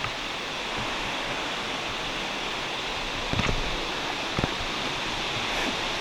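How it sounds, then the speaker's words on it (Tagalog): Shower Falls waterfall in Bongcao, Pili, Camarines Sur pours in a steady, full broadband rush, continuous and close, with a couple of brief thumps or knocks over the water noise. "Yan yung shower falls guys."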